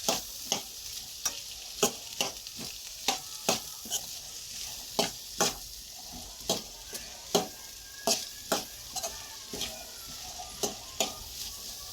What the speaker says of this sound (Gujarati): અને સારી રીતે મિક્સ કરીને 2-3 મિનિટ સુધી આપણે આમનામ હલાવશું